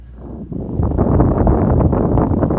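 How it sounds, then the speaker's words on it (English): Wind buffets the microphone with a loud, continuous low rumble that swells after a quieter start. "Okay, I know it's windy."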